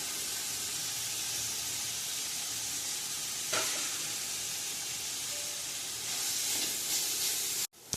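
Onions for biryani roast in a hot pan with a steady, dense sizzle and hiss that continues throughout, with a brief clatter at the end.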